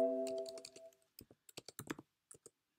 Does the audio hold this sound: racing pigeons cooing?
no